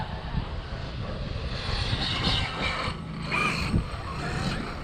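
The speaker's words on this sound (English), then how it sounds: "That was full throttle there for a minute." An Arrma 8S RC car runs at full throttle, its electric drivetrain giving a loud, steady, high-pitched roar and whine that holds for several seconds with slight swells, with no talking.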